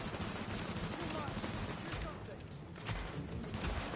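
Rapid gunfire in The Division video game, dense bursts of automatic shots rattling almost without pause, loud and close, with a player speaking over the shooting.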